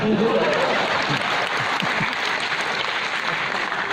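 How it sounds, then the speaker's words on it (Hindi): A large audience claps throughout a Hindi poetry performance at Ravindra Bhawan in Bhopal, a loud, dense, continuous applause from close by, with faint voices mixed in. "अगली पंक्ति पर आपकी तालियां उठेंगी"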